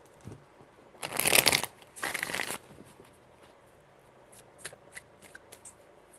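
Tarot cards being shuffled by hand: two quick, crisp riffling bursts close to the microphone, followed by softer scattered card taps and rustles.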